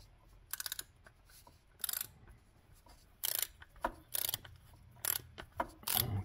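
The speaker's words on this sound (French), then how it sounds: "on va prendre une douille de 24. Et on y va doucement parce que c'est du plastique" A ratchet fitted with a 24 mm socket works a plastic oil filter cap loose on an Opel Astra H Twintop, giving short bursts of quick clicking separated by pauses, close and fairly quiet.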